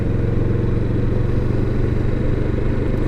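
Motorcycle engine held at a steady throttle, a loud, close, continuous rumble with an even, rapid pulsing and no voices over it.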